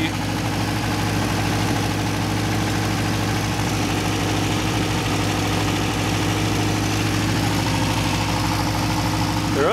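A Toyota motorhome engine idles steadily and close by, a continuous low rumble with a faint rattle running through it, unbroken for the whole stretch.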